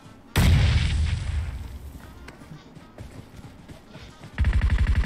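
A grenade in PUBG Mobile goes off with a sudden loud boom that rumbles and slowly fades, followed a few seconds later by a rapid burst of close gunfire.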